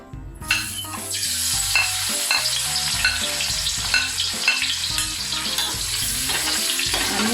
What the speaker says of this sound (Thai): เอากระเทียมมาเจียว